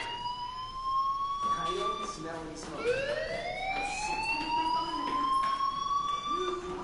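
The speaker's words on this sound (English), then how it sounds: "Hey, do you hear that fire alarm?" A fire alarm wails in the Life is Strange video game, with rising and falling siren-like tones that repeat steadily and loudly over several seconds, alone without talk.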